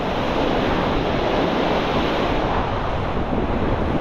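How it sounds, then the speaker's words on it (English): Sea waves wash onto Chesil Beach under strengthening wind, a constant loud roar of surf and gusting wind buffeting the microphone, with no voices. "that wind is definitely increasing in strength"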